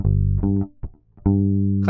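A bass guitar sounds a sustained G, a low harmonic-rich tone held for about half a second, then a couple of short plucked notes, then the G again held steadily to the end, close and clear with no talk.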